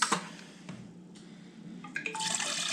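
Warm water poured from a measuring cup into a stand mixer bowl already holding eggs, flour and yeast, giving a short, close splashing trickle that swells toward the end over a quiet kitchen background.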